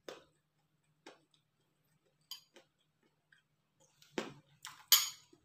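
Eggplant sisig is bitten and chewed up close as sparse, sharp crunches, faint at first and growing louder and denser toward the end, over a low hum.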